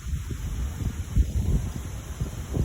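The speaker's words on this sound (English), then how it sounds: "It's very windy outside." Strong gusting wind ahead of an approaching thunderstorm over Lake Michigan buffets the microphone in a steady low rumble that swells and dips throughout.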